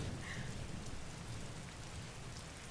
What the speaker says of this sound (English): The storm is loud.